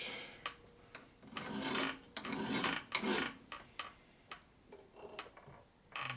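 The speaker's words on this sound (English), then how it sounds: "now I can do this again, deburr it." A hand file rasps over the cut edge of a metal disc brake part for a vintage Harley knucklehead springer bobber, deburring it with short, scraping strokes. Faint ticks and taps sound between strokes, close and fairly quiet.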